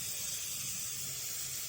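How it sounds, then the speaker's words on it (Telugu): Tempering spices sizzle in hot oil for a coconut curry with broad beans and capsicum, giving a steady, close, even hiss that runs without a break and with no talk. "పోపు దినుసులు వేసేసుకున్నాం."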